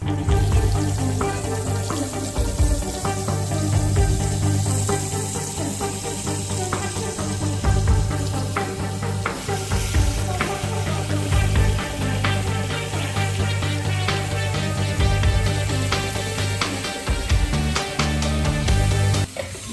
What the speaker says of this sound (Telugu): స్టవ్ స్లిమ్లో పెట్టి గోల్డెన్ బ్రౌన్ కలర్ వచ్చే వరకు వేయించుకోవాలి